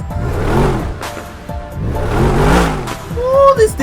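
A BMW M3 engine in the GTA video game revs up and down in two throaty swells, loud and close, ending with a brief tire chirp.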